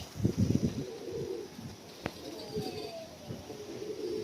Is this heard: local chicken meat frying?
no